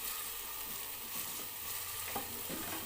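Masala with curry leaves and ground red chili being stirred and fried in a clay pot, a steady close sizzle with soft scraping stirs throughout.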